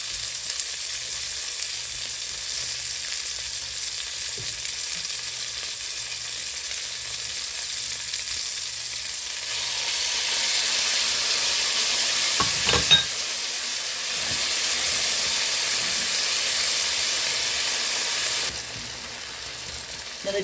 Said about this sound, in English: now we're gonna throw in here our tomatillos.